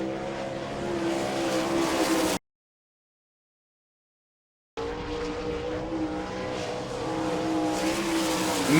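Sprint race car on a qualifying lap at Rossburg speedway, Ohio, in an All Star Circuit of Champions event: a loud, continuous engine roar that cuts out for a couple of seconds, then returns steady and rising.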